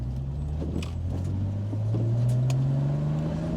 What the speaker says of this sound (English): I love the 6-cylinder. It sounds absolutely wonderful.